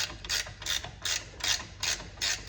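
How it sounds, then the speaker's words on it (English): A spanner ratchets a nylock nut onto a 17 mm bolt while fitting a lift kit to a Smart car, six evenly spaced bright clicking bursts repeating about every 0.4 seconds, close and moderately loud with no talk. "I've just put a nut on the back of there, just winding that in"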